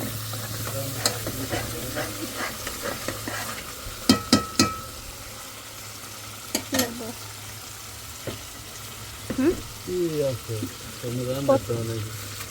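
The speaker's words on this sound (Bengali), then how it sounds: "এখানে মশলা কষায় নিছি" Spices fry in a pan while being stirred, with scattered scrapes and clanks over a constant sizzle. Voices talk intermittently underneath.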